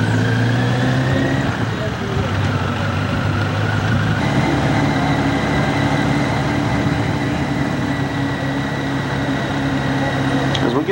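Motorcycles riding in a 1991 rally parade through the streets of Richmond, Kentucky, their engines a steady, continuous drone with low rumbling tones, fairly close and loud throughout, with faint voices mixed in.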